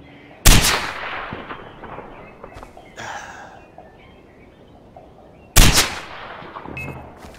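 Two sharp, loud gunshots ring out in the Far Cry 4 video game about five seconds apart, each with a short decaying tail, over faint background game ambience.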